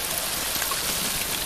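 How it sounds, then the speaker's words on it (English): Steady hiss of heavy acid rain pouring down in a video game, dense and continuous, with no voices. "Acid rain."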